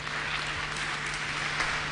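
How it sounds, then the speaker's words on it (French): Steady, dense applause from an audience after a speech by the President of the Republic of Senegal at a general academic competition ceremony, sustained and even throughout with no voices over it. "Les applaudissements qui accompagnent le discours du président de la République, Cheikh Mbao, avec des annonces fortes."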